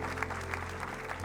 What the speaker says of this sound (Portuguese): A igreja pode dar uma salva de palmas pela vida deles?